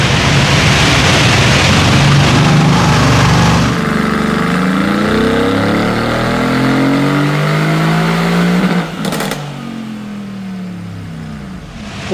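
Stock Mercedes-AMG GT S V8 on a dyno, engine revving hard and climbing steadily in a loud sustained pull, then cutting off abruptly and winding down with a fading rumble.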